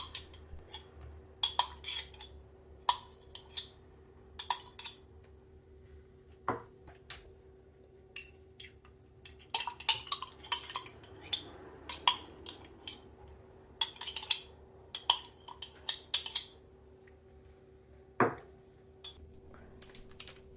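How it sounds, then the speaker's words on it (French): Yogurt being spooned into a mixing bowl for a sugar-free yogurt cake: scattered light clinks and taps of a spoon against the bowl and pots, with irregular pauses and a steady faint background hum. "Pour démarrer, vous allez ajouter vos 2 yaourts dans un saladier."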